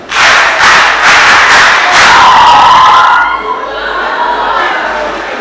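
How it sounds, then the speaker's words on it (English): A school audience at a debate final breaks into loud cheering, whooping and rhythmic clapping for the finalists, a dense crowd roar that fades into lighter chatter and laughter. "Let us congratulate them with a hand clap."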